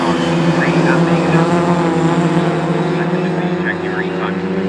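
Classic sports cars, including a TVR Griffith and Jaguar E-Types, race at Oulton Park circuit, engines roaring loud and steady with a constant drone throughout, faint commentary layered over the noise.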